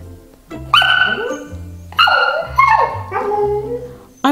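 A husky yowls and grumbles in a series of drawn-out, rising and falling vocal bursts, close and fairly loud, as if arguing back with a person over a beanbag.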